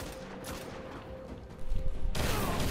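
Gunfire in the Destiny beta video game, a dense sustained rattle of shots that grows louder and harsher toward the end, close and continuous with no clear talk.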